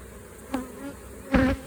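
Honey bees buzz around an open hive during an inspection, a close, steady drone with two louder swells as bees fly past near the listener.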